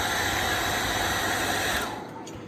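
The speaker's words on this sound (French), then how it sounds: "même si on branche le sèche-cheveux" A hair dryer, powered by a solar panel and battery system, hums steadily and loudly close by with a high whine, then drops in level near the end as if switched down.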